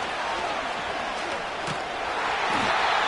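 A football stadium crowd roars loudly before a third-down play, a thick continuous cheer swelling slightly toward the end, with commentary voiced over it.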